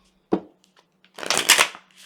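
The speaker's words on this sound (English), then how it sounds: "Alright, let's give it a good shuffle." A single light tap, then a quick, crisp riffle of tarot cards being shuffled up close, lasting about half a second.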